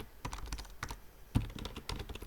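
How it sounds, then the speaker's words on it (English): Typing on a computer keyboard while setting up a local web server, quick irregular clicks and key taps in short bursts, close and fairly quiet, with one sharper thud midway. "you're seeing all my terrible typing."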